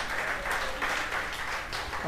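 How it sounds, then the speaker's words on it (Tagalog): A church congregation claps for Jesus during a Sunday worship service, a brief, steady burst of dense clapping with a faint murmur of voices mixed in. "The best pong palakpak para kay Jesus."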